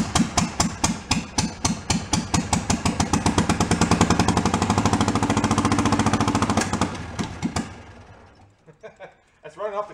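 An old, long-abandoned VW Beetle police car engine runs off the carburetor with a loud, rapid mechanical clatter. The chugging speeds into a steady rattling drone, then cuts out and sputters to a stop, with voices talking over it.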